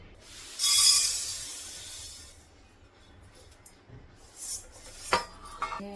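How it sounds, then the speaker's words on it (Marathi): Wheat grains being dry-roasted over low heat in a wok and stirred constantly, giving a gritty scraping and rattling that swells early on, quiets in the middle, then returns in short bursts near the end. "कमी गॅसवर सतत हलवत गहू भाजायचे"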